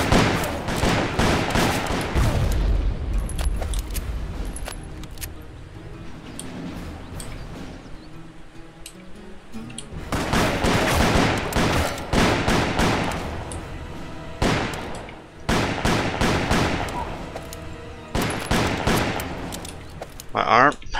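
Dense gunfire from guns in the Western shooter Call of Juarez on PC, rapid bursts and volleys of shots crackling almost continuously, loud and close, with brief lulls between flurries.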